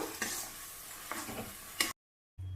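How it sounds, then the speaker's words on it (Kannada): Tomato mint paste frying in oil for tomato mint rice, a soft sizzle with a few spatula strokes, close and quiet, cut by a brief silent gap before faint sound returns. "ಸ್ವಲ್ಪ ಇದನ್ನು ಕೈಯಾಡಿಸ್ತಾ ಎಣ್ಣೆಲಿ ಫ್ರೈ ಮಾಡಬೇಕು"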